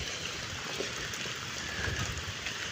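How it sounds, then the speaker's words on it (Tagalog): Fairly heavy rain pours onto garden plants, tomatoes and corn, in Laguna, Batangas, making a steady, dense hiss of drops with no voices. "medyo malakas ang ulan at tuwang-tuwa ang mga halaman"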